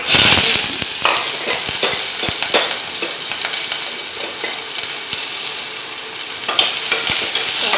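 Onion frying in hot oil inside a pressure cooker gives a steady close sizzle, with stirring scrapes and small crackling pops running throughout and no talk.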